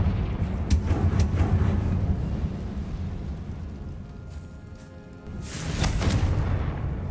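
Confringo blast spells exploding in Hogwarts Legacy, with deep booming bursts that roll and rumble, fading out midway before a second loud blast swells up near the end.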